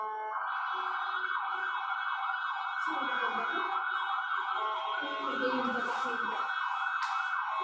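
A loud, continuous wailing emergency siren passes outside an open window of a lecture room, its pitch sweeping up and down steadily for several seconds.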